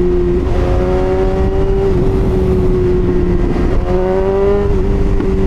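A BMW S1000RR sport motorcycle fitted with an SC Project exhaust revs loudly and close, holding a steady high drone with slight rises and dips in pitch, nobody talking.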